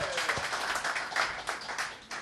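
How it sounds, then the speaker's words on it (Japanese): An audience at an acoustic music show gives a round of applause, a thin and somewhat distant patter of clapping for about two seconds with no voices over it. "大きな拍手をお願いします。"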